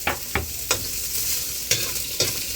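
Chopped onion frying in a pan while a utensil stirs it, a bed of sizzle punctuated by five sharp scraping knocks at irregular intervals, close and alone without talk.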